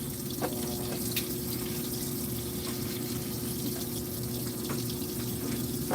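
A washing machine loaded with bulky items fills with water, a steady continuous rush and hiss with a low hum underneath, unchanging throughout and with no one talking.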